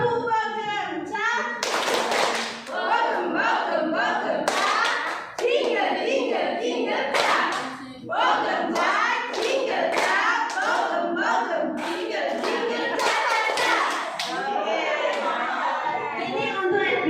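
A group of teachers in Indonesia claps hands together in a steady rhythm, the sharp claps landing in regular bursts among lively voices chanting and singing along.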